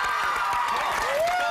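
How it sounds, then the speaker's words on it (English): A studio audience at an Australian morning television show bursts into steady, dense applause mixed with cheering and whoops, loud and continuous throughout, with a brief rising whistle-like tone near the end. "Round of applause, ladies and gentlemen."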